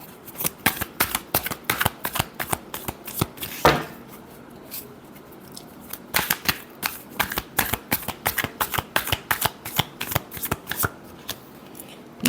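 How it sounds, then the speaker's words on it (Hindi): Tarot cards being shuffled by hand, a close, loud run of rapid riffling flicks that repeats in bursts with a brief pause midway. "Last shuffle."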